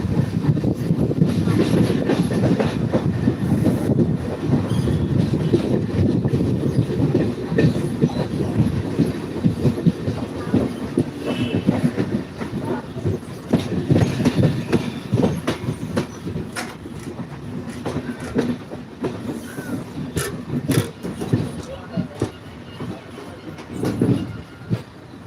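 Local commuter train on a morning journey, its steady rumble, rhythmic clickety-clack over rail joints and occasional wheel squeal filling the carriage continuously from start to finish.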